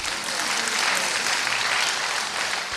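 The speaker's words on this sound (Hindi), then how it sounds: "अब अपने लिए आप ताली बजाओ क्योंकि आप सब पास हो गए" An audience in a spiritual talk hall bursts into dense, continuous clapping, a close, steady wash of applause lasting a few seconds.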